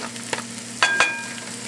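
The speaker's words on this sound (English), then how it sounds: "Basically, there's our spinach going in there." Fresh spinach dropped into a hot frying pan for Salisbury steak, giving a steady close sizzle with a few sharp crackles and clinks of stirring, no talking.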